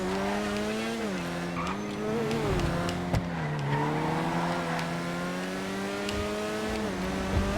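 Ocelot Locust sports car in GTA Online, engine tone sweeping up and down under hard driving, then braking with a tire squeal, continuous and fairly close, no talking.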